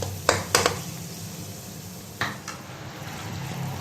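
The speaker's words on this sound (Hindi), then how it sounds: "अब हम अपने मसाले को तकरीबन 1 मिनट के लिए ऐसा ही भूनने के लिए छोड़ देंगे।" Masala spices roasting in a pan for aloo gobhi, a quiet low sizzle running throughout with a few sharp stirring scrapes and clinks near the start and middle.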